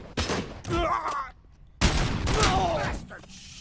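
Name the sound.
gunshots hitting the player in the video game Robocop: Rogue City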